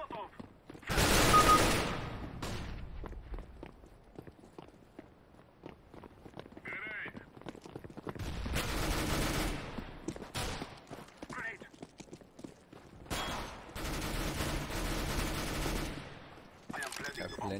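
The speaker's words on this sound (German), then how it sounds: "den Spray von der AK hat er auf jeden Fall drauf" In Counter-Strike: Global Offensive, an AK rifle fires spray bursts, with rapid loud volleys at the start, middle and end separated by quieter gaps of footsteps and game sounds.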